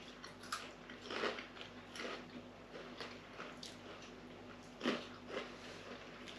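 Crunchy cheese doodles are chewed close up in quiet, irregular crunches and bites, with two sharper crunches standing out among softer chewing sounds.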